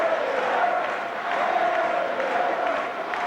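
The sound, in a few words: French rugby crowd cheering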